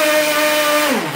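Small nitro RC car engine (P5) running steadily during break-in at roughly half to three-quarter throttle, a loud close buzzing whine holding pitch, then briefly dropping and rising again near the end.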